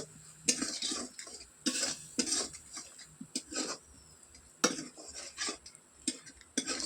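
A spoon repeatedly scrapes and clinks around a pot of egg curry as salt is stirred in, cooking over a clay stove; quiet, close, irregular strokes separated by brief pauses.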